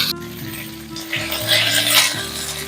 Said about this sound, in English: Begin by sauteing the onions for 5 minutes.